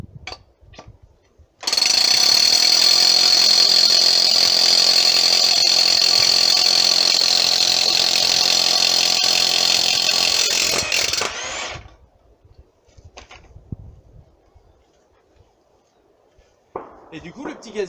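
DeWalt Flexvolt DCH733X2 cordless rotary hammer driving a 40 mm bit into a concrete curb: a loud, sustained hammering roar for about ten seconds that cuts off abruptly, followed by quiet handling and a brief voice.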